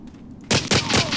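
Gunfire erupts in the multiplayer shooter Medal of Honor Allied Assault Breakthrough, with rockets amid the battle: a quiet moment gives way to a loud, close burst of rapid shots and blasts that keep pounding to the end.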